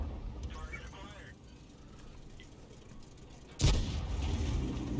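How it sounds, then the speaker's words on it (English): An M46 Patton tank cannon fires once in a Korean War-era tank video game: a sudden loud, close blast well into the clip, followed by heavy rumbling, with low battle noise before it. "Gets a shot into the T-92"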